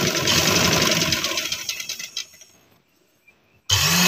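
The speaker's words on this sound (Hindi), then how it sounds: "तो इसकी दूसरी साइड पे भी हम सिलाई लगा रहे हैं।" A sewing machine stitches a baby frock, its fast mechanical chatter running loud and close before slowing and stopping, then starting abruptly again after a short silence.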